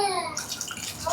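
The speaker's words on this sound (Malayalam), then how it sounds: "ഇനി ഇതിലേക്ക് തിളച്ചുകൊണ്ടിരിക്കുന്ന വെള്ളം" Boiling water poured into a pot of mango rasam, the thick mashed-mango broth, making a brief, steady splashing pour up close.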